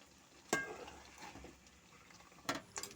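Field crab gravy stirred in a pan, with two sharp scraping strokes of the spoon against the pan over a soft, steady sizzle and bubbling, then a quicker pair of scrapes near the end, with no talking.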